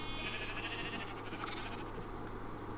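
Sheep bleating in a colony-building video game, a few drawn-out bleats over a steady low electronic hum, moderately loud.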